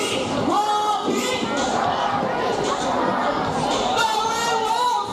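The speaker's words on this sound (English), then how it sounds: "all the boys will cheer for Rocky. Come on, boys, let me hear you cheer." Boys in the stands at a dolphin show at Manila Ocean Park cheer for a dolphin, a steady wash of crowd voices and shouts with no single voice standing out.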